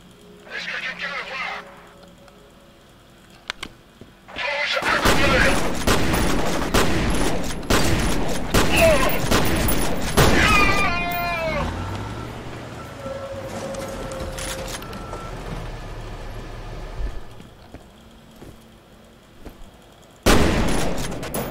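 An enemy grenade in the shooter FEAR lands and detonates amid heavy gunfire, a loud blast burst with clattering debris and a metal trash-can lid ringing and spinning away, followed by quieter rumble and a final loud burst; a voice talks early on.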